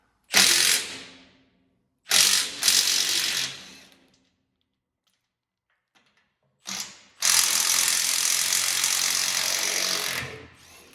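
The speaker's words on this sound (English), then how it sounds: "to access the flywheel housing, we take out these 2 bolts" Ratchet wrench loosening tight M12 bolts on the flywheel housing cover of a Först TR8 D55 wood chipper, heard as three bursts of rapid clicking ratcheting: two short runs, a pause, then a longer continuous run, close and fairly loud.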